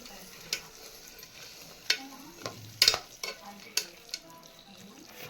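Cashews and almonds frying in a pan for carrot halwa: a soft, steady sizzle broken by several sharp clinks and scrapes of stirring, close by and without talking.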